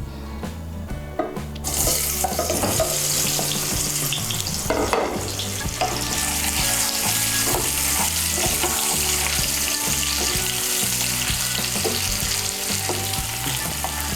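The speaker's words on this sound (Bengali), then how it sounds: "এর মধ্যে আমি আলুগুলো প্রথমে ভেজে নেব।" Boiled potatoes fry in three spoonfuls of hot white oil in a wok, giving a continuous, even sizzle with background music underneath throughout.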